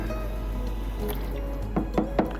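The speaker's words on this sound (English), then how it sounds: "I'm going to get rid of the cutting board now. Give it a little rinse." Water runs over a kitchen cutting board being rinsed at the sink: a steady wash of running water, then a few brief splashes and drips near the end, close and fairly loud.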